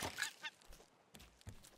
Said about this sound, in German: Schon wieder so ein Vogel.